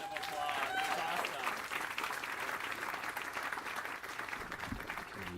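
Wedding guests applauding, a dense round of clapping that holds steady throughout at a moderate distance, with a few voices mixed in.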